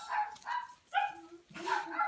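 Several short, high-pitched puppy yips and whimpers in quick succession, close by, with brief pauses between them.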